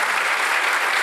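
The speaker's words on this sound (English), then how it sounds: "maybe a little applause for them" An audience at an SAP Festival 2019 live salon session applauds the panel guests, a dense, even wash of clapping from many hands, close and steady for a brief moment.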